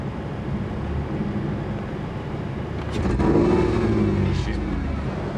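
A 1994 Toyota 4Runner engine idles with a rough, uneven rumble, then surges and dips as it hesitates, loud and near throughout, with a brief voice heard over it.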